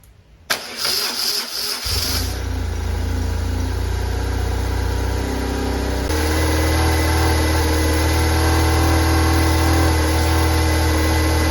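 A BMW R1100 RT motorcycle engine cranks briefly, catches and starts, then settles into a loud, steady running idle close by, with no talk over it, just after the fuel tank and alternator were removed and refitted.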